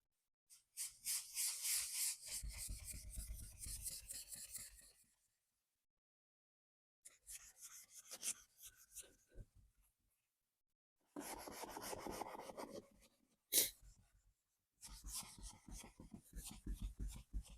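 Rough rasping scrubbing strokes on glass while cleaning off paint overspray, coming in several bursts separated by pauses, close and fairly steady.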